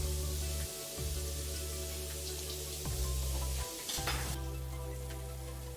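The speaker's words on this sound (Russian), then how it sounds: "Пока жарится первая партия пирожков, формирую вторую." Potato-filled pirozhki frying in a pan, a steady close sizzle with soft bubbling that holds throughout, broken by a few brief low thumps and clinks from handling, with no one speaking.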